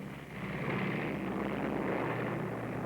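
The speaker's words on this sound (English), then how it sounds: "what plane is that taking off?" Propeller airliner engines roar steadily at an airport as the plane takes off, a broad sustained drone at constant loudness with no voices.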